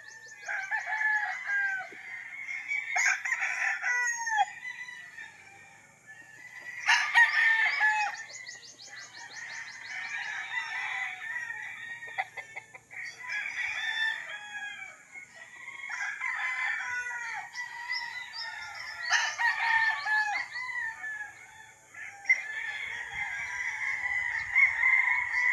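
Chickens cluck and roosters crow repeatedly on a one-hectare flat farm lot. Several crows ring out at irregular intervals over steady clucking and chirping, moderately distant and without talk.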